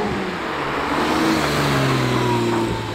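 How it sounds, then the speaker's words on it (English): Porsche GT4 engine revving up on a breakfast drive with other sports cars, a loud, close, sustained engine note that climbs and holds across the few seconds. "Porsche is sounding good."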